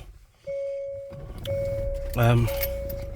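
Keys for a Hyundai Santa Fe 2.2 CRDi jangle briefly near a car interior, alongside steady electronic chime tones that start, pause and return, with a louder ringing tone burst near the end.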